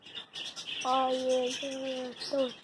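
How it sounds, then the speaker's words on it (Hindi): A small pet parrot gives a few clear, tonal chirps and whistled calls at close range, with faint background noise around them. "तोता"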